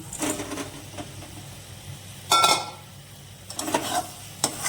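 Paneer pieces fried in a pan of cooked spice masala give off a soft, steady sizzle, broken by a few sharp clinks and scrapes of a spoon against the pan.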